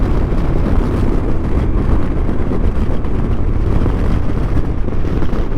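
A motorcycle accelerates out of a right-hand corner, a loud, close, unbroken roar of engine and rushing wind that holds steady throughout.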